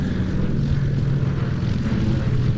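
A Lockheed 12 propeller aeroplane flies at an air display at Duxford, its engine drone loud, steady and continuous throughout, with no voices over it.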